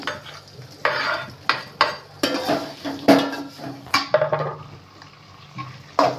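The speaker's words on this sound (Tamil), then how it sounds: "இது நல்லா இப்படி கிளறி விட்டுக்கோங்க" Spoon stirring food with chopped tomato in a cooking pan, with repeated scraping and clattering strokes in an uneven rhythm over a soft sizzle, close up and without talk.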